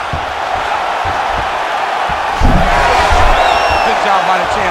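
Arena crowd in the EA Sports UFC 5 fighting game on PS5, a dense, steady roar that swells louder halfway through as the fighters get back to their feet after grappling.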